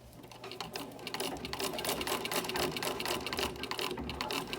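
A Singer 15-88 treadle sewing machine stitches fabric in a fast, even mechanical chatter, close and steady throughout with no voices.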